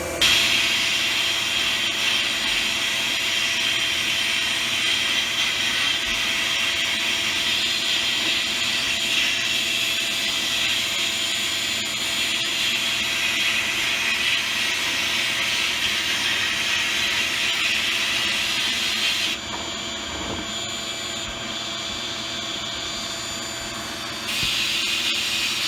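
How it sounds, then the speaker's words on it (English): A turbocharger being sandblasted gives off a steady, loud, broadband hiss of blasting air and grit that runs unbroken for about twenty seconds, briefly changes near the end, then resumes, with no talking. "let's go over there and take a look at what it looks like to really sandblast one of these turbos"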